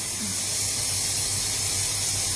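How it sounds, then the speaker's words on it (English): Courgette ribbons drop into a simmering spicy Caribbean prawn sauce in a pan, setting off a loud, steady sizzling hiss that holds for the whole moment with no voices. "I'm just going to start to add our courgette ribbons"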